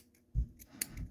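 Scissors snip through fly-tying dubbing material, a couple of quick close cuts with soft crisp clicks and no talking.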